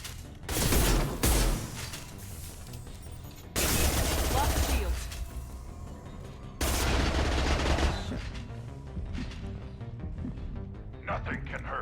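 Gunfire in Mass Effect 2 comes in three loud, dense bursts of rapid shots separated by quieter gaps, with combat ambience lingering in between.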